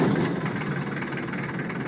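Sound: Land Rover Defender 90 diesel engine starting

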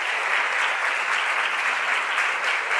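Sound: audience applause

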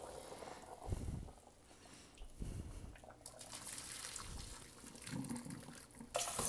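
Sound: water running while rinsing a cooking pot

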